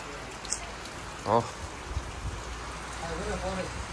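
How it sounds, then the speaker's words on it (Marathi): Heavy rain pours down steadily in a village, a soft hiss of broadband noise running under nearby voices chatting and calling out. "पाऊस यायला लागला जोरात"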